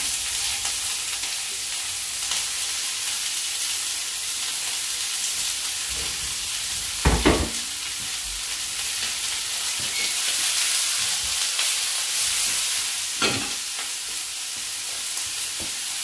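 Steady frying sizzle of leek and onion in a hot pan, a continuous bright hiss with a few thumps and stirring clatters, close up.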